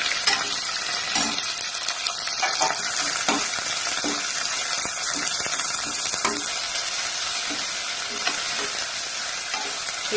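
Two large onions, cut into long slices, sauté in a pan, a dense steady sizzle broken by repeated stirring scrapes and light clacks, close and unbroken, with no voices.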